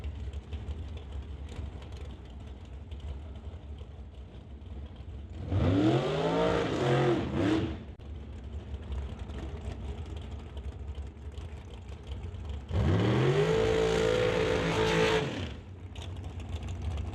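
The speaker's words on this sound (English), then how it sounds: "Brady Lowe brings out the JBS Equipment Dragster to race Emily Gerard" The JBS Equipment dragster makes its drag-strip run, two loud engine bursts that rise and roar past against steady background noise, with nothing in between.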